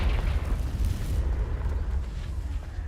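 Confringo explosive spell in Hogwarts Legacy going off as a continuous heavy, fiery blast, a loud low rumble with crackling burst texture throughout, gradually easing.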